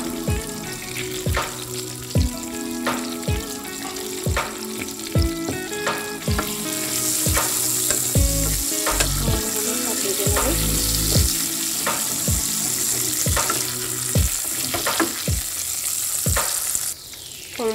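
Bay leaf, cumin, cloves, cardamom and cinnamon fry in hot oil with a constant close sizzle, punctuated by regular scraping and clinking of a stirring spoon, the hiss swelling louder midway.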